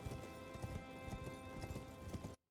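Torrent, the spirit horse from Elden Ring, trots with steady clip-clop hoofbeats over a dense game soundscape, cutting off abruptly.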